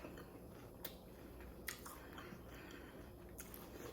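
A tortilla chip loaded with roasted tomato salsa is crunched in a few sharp, close bites spaced about a second apart, followed by faint chewing over low background hiss.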